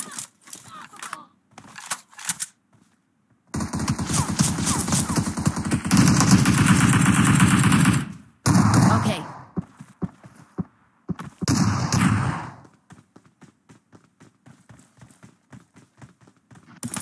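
Bursts of machine gun fire in the battle royale game PUBG, rapid rattling volleys over several seconds with brief pauses, loud and close, followed by quieter game sounds.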